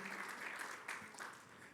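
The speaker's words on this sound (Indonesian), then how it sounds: "Ayo kita beri tepuk tangan bagi Tuhan kita" A church congregation applauding for God during a Sunday worship service, a steady, faint wash of clapping that runs throughout.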